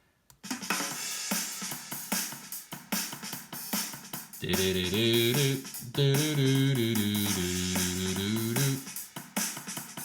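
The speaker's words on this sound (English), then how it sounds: "Here, I'll play the track that I picked to record over." A backing track chosen to record a song over plays: sparse percussive hits open it, then sustained tonal chords with a clear bass line come in around the middle and run steadily to the end, moderately loud.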